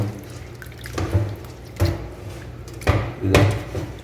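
Basmati rice being washed for ghee rice: four separate sloshing swirls of water in a bowl, close and fairly loud, with quiet pauses between them.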